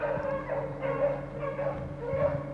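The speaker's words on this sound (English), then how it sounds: "the sweet sound of 4 beagles chasing a cottontail echoed through the brush" A pack of four beagles bays while chasing a cottontail rabbit through brush, giving rhythmic, repeated howling cries that sound moderately distant and carry on continuously.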